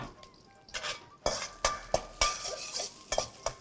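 Chopped green chilies and ginger are stirred in a pan, with a spoon scraping and clacking in a string of sharp, distinct strokes over a faint sizzle, close and without talk.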